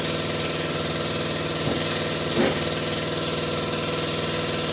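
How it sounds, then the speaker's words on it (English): A generator runs steadily to power an air compressor during repair work on a 1980 Jeep CJ7 bed, its even engine drone holding throughout with a couple of brief louder bumps partway. "I'll run the generator just to get to run the other air compressor"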